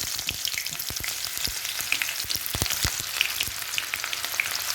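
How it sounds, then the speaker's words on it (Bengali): Chopped onions fry in hot oil with whole cumin, cardamom and cinnamon for a soya egg biryani, giving a steady close crackling sizzle dotted with sharp pops throughout. "গোটা জিরে ফোড়ন দিয়ে দেব তেলে পেঁয়াজ কুচি দিয়ে দেব"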